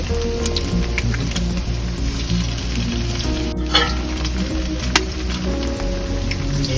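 Eggs frying together with potatoes and onions in a wok, a steady close crackling sizzle throughout with occasional sharp spatters and utensil taps.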